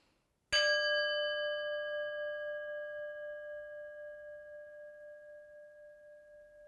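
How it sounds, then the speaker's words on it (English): A singing bowl is struck once and rings with a bright attack, then a pure sustained tone with steady overtones that slowly fades and gently wavers, alone in a quiet room. "when you can't hear the sound of the singing bowl anymore"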